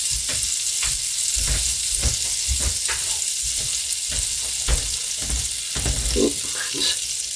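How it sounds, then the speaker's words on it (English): Butter sizzling steadily in an electric skillet, a continuous bright frying hiss with occasional soft scrapes and crackles, close and loud throughout. "I'm going to throw some butter in there."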